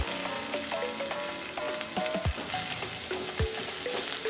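Onions and tomatoes sauté in a pan for Tamil thakkali thokku, giving a steady close sizzle with scattered clinks and scrapes from stirring and two sharp knocks partway through.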